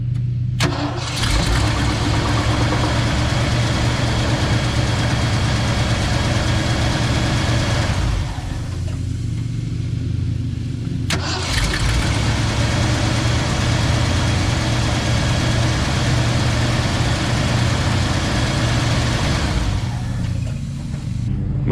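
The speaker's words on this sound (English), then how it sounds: "let's see if it cranks a little better" A 1978 Ford engine cranks and catches, then runs at a loud, steady idle, with a short dip in the sound before it revs up again and keeps running close by.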